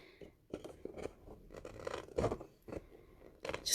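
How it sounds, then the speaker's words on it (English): A craft blade slices a thin paper border from a scrapbook page in short, quiet scratchy cuts with small pauses between strokes, close and faint. "So I'm just cutting that little border off"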